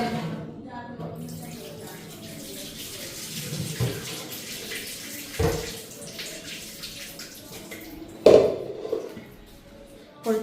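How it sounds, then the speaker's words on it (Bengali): Rice is washed under a running tap in a home kitchen. A steady rush of water plays close and moderately loud throughout, broken by a few splashes and thuds as the grains and pot are handled. "এখন আগে দিকে চালটা ধুইয়া ভাতটা বসায়"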